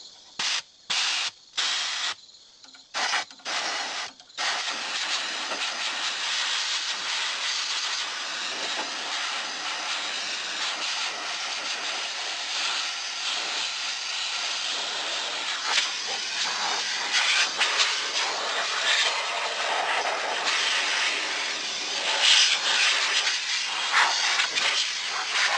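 Compressed air from an air compressor nozzle, set at about 30 to 40 psi, blasts at a tractor radiator screen on a Mahindra Emax 22. A few short bursts come first, then a long, loud, continuous hiss nearby.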